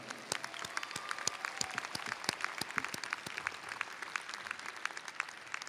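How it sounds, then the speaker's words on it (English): Sustained applause from a large audience at a 2018 NJIT university commencement in the Prudential Center arena, a dense wash of many hands clapping continuously at a steady level without speech. "Please join me in offering a round of applause to all of those individuals who've helped you"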